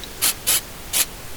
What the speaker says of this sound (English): We spray it on.